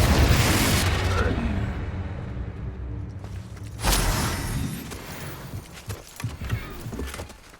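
A Confringo spell explosion from the Hogwarts Legacy video game gives a sudden muffled boom midway, followed by smaller thuds and impacts under a low rumbling background.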